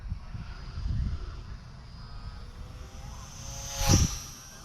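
A small XK A210 Trojan T28 remote-control plane buzzes past outdoors. The thin propeller whine swells briefly near the end as it passes close, over light wind and background rumble.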